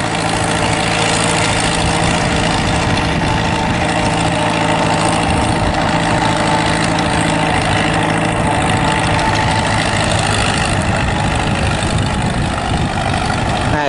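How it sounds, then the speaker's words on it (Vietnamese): A small farm machine's engine runs steadily throughout, a loud, continuous mechanical drone with a low hum, close to the listener and not broken by pauses. "Bây giờ thì cái con máy này chạy đi tải giống trước nè"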